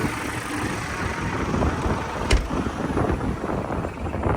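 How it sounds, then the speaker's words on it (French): Wind gusts buffet the microphone outdoors in a garlic field, a steady low rumble and crackle that swells and fades throughout, with one brief sharp pop midway and no voices. "Je pense que vous allez entendre un peu le vent grésiller"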